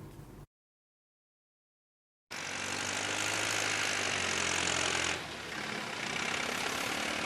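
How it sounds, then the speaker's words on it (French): A tractor engine rumbles loud and steady at close range in Gourgou, Tenkodogo commune, marking the official launch of the farming season. It starts abruptly after a brief silence and keeps a constant low roar, easing slightly partway through. "Le vrombissement de ce tracteur ici à Gourgou dans la commune de Tenkodogo marque le lancement officiel de la campagne agricole"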